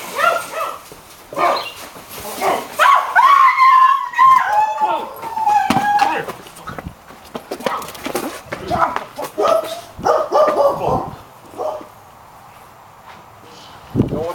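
Dogs barking and yelping repeatedly in short bursts, close and loud, mixed with excited human voices and scuffling footsteps.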